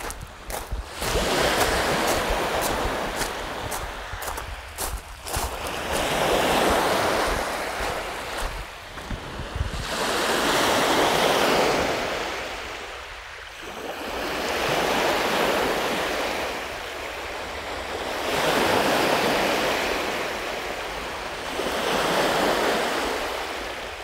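Waves surging and washing onto a rocky beach in Toronto, loud rhythmic swells rising and falling every few seconds, with wind buffeting the microphone.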